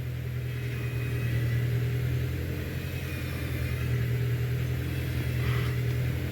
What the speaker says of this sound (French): c'est la pompe de direction assistée